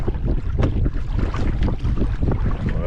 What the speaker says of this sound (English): And we got the wind coming at us a bit.